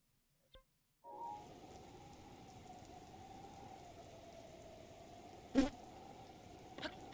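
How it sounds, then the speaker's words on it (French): Rain falling in The Legend of Zelda: Breath of the Wild, a steady even hiss that starts abruptly after a brief silence and holds at a moderate level, with a couple of short louder knocks near the end. "Ah mais il pleut!"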